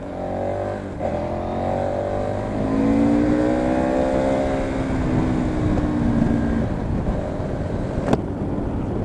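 A 2015 KTM 1290 Super Adventure motorcycle engine revs up hard under acceleration with the front wheel lifted, its steady droning note climbing and then easing off, loud and close with no talk.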